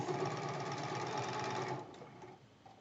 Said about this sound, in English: I'm going to sew that one on first